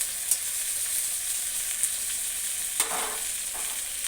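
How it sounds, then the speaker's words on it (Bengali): Fish fries in a pan for a Bengali fish curry (macher jhol), giving a steady, close sizzle with a few sharp clinks of stirring over it. "এবার মাছের ঝোলটা বানিয়ে ফেলবো।"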